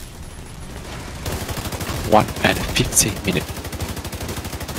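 Rapid gunfire in a multiplayer shooter as a bot is shot, a dense burst of repeated shots alongside team voice chat, loud and close throughout.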